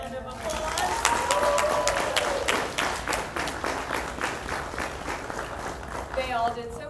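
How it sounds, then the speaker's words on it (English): Audience applause for senior students after their research presentations, a dense wash of many hands clapping that stays loud across the stretch, with a few voices calling out and cheering over it. "let's give these guys another round of applause"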